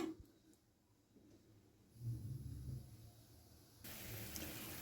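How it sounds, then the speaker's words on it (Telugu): Water is poured into a pan of egg omelet curry while cooking, giving a soft, close splashing gush that swells midway and then settles into a steady pouring hiss. "తగినంత వాటర్ వేసుకొని మనకి కారం సరిపోతే చూసుకొని వేసుకోవచ్చు"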